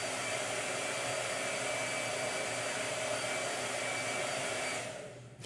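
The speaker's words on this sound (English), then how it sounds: "using a blow dryer to dry the painting" Hair blow dryer running continuously at close range to dry a small gouache painting, a steady loud whooshing hum that cuts off abruptly near the end.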